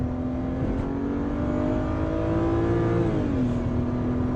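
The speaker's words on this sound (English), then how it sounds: "I love the sound of a good inline six, and this is naturally aspirated, no turbos" A BMW E91 3-Series wagon's naturally aspirated inline-six engine revving up, a loud steady rising drone that holds and then drops back, heard close with no talk.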